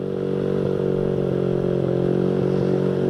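Honda Vario motorcycle engine revved lightly on the throttle, a steady loud close-up drone with a buzzing, slightly rattly tone and no spoken voices.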